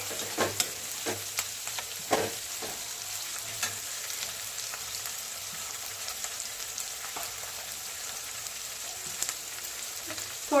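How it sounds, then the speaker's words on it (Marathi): Diced potatoes fry in a pan with a steady, fairly quiet sizzle, broken by occasional sharp scrapes and clicks as a spatula stirs them, for an aloo matar pulao; no one speaks. "फ्राय केलेला बटाटा मस्तपैकी फ्राय करून घ्यायचं, परतून घ्यायचं मस्त छान पैकी।"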